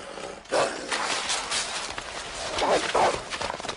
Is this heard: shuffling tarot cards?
no